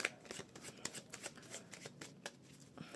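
A deck of tarot cards being shuffled by hand, with a quick run of soft riffling flutters and slaps, close and quiet, with no talking.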